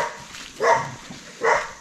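Dogs on a rural country walk in Apiacá, Espírito Santo, bark twice in separate bursts about a second apart, at moderate distance over a quiet outdoor background.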